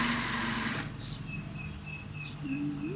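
A sewing machine stitching the hem of a Thai sarong, running in a loud, close burst for under a second before stopping, leaving quieter faint tones behind.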